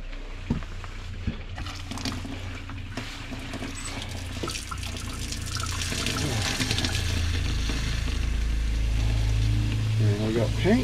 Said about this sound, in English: So now turn the water pump on.